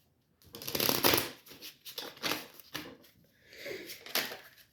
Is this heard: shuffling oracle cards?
yes